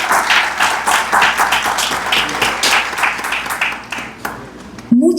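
An audience at a book presentation in San Pedro de Macorís claps warmly in a dense, continuous burst of applause, tapering off toward the end.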